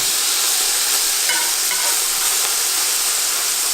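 White wine and thyme added to hot scallop pan juices give a steady, loud frying sizzle and hiss that holds evenly throughout, with faint stirring clinks and no voices.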